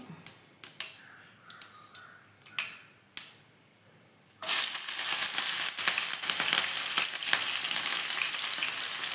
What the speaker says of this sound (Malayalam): ഞാൻ ഇതെല്ലാം ഒന്ന് വഴറ്റി എടുക്കട്ടെ